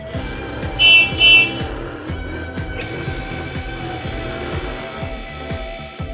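A toy police monster truck rolls off with a steady, rhythmic mechanical whirr and ticking motor pulses, joined by a couple of brief higher chiming tones near the start; no one talks.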